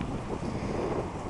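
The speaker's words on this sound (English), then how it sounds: "A little windstorm kicking up here. It's coming our way. You probably hear that in the microphone there." A steady, loud roar of wind buffets a microphone outdoors by a cabin in Deer Park, Texas, as a small windstorm blows through, filling the whole moment with rumbling gusts.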